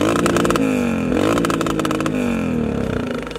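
A dirt bike engine with a carburetor problem revs roughly and unevenly, its raspy buzzing note rising and sagging and failing to climb cleanly, loud and close with no talk.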